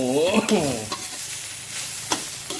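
Chicken and its innards are stir-fried in a pan for a northern Thai chicken salad with termite mushrooms: a close, steady sizzle broken by a few sharp scrapes of the spatula as the pieces are tossed.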